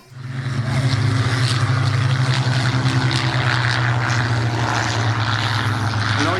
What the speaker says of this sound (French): Un des plus beaux avions pour moi qui ait sûrement existé, le Spitfire